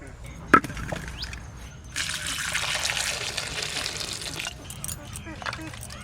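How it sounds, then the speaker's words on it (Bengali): Cut new potatoes are rinsed in water in a kitchen, with a steady burst of splashing and running water for a few seconds after a sharp knock, then a quieter trickle. "একবার ধুয়ে ফেলছি, আবার জল দিলাম।"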